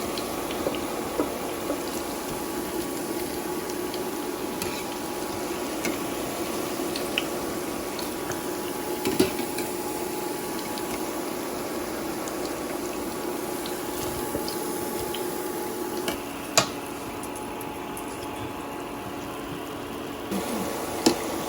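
Small pakoras fry in a pan of oil with a steady, close crackling sizzle that runs unbroken for about twenty seconds, broken by a few louder pops and a brief shift near the end.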